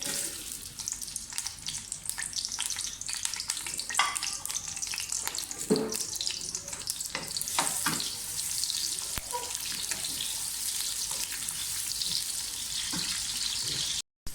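Onions frying in oil in a pan while cooking lauki gosht, a steady loud hiss and crackle running throughout, with a few sharper clinks, and no talking.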